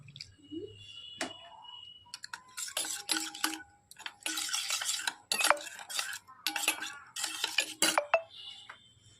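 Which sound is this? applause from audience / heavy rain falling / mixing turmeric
mixing turmeric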